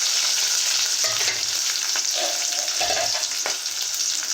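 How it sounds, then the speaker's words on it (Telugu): Sliced onions frying in hot oil with mustard seeds, garlic and chillies for a Telugu dal, a steady close sizzle running throughout with a few stirring scrapes. "ఉల్లిపాయ ముక్కలు వేసుకోవాలండి."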